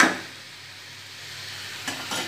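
Fish curry with bitter gourd being stirred in a pan, a soft steady sizzle with faint scraping, and a couple of brief louder stirring scrapes near the end.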